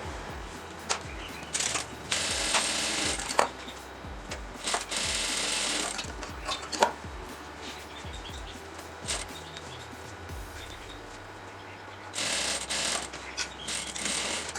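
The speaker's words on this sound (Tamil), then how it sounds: "ஸோ ஹூக் பட்டிக்கு அதே மாதிரி மேலே ஒரு சிங்கிள் ஃபோல்ட் பண்ணி மேலேருந்து வச்சு இப்போ நம்ம தைச்சு ஃபினிஷ் பண்ண போகிறோம்." A sewing machine stitches a folded hook strip on a collar blouse in rapid bursts of whirring, separated by pauses and small mechanical clicks; one brief faint bird call is also present.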